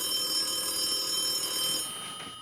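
A telephone rings in a home, a steady electronic ringing tone that holds for about two seconds before fading, with no talk over it.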